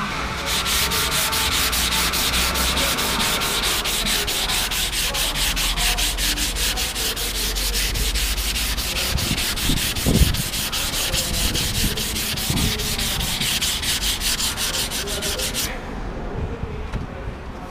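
A car body panel is hand-sanded with 220-grit sandpaper held under the palm, making a loud, continuous, rhythmic scrubbing rasp of quick back-and-forth strokes that stops near the end.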